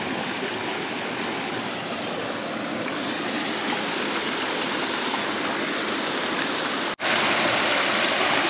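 A mountain stream rushes down a walled riverbed in the Paúl valley on Santo Antão, Cape Verde, a loud, steady, unbroken roar of water with no voices and only a brief dip near the end.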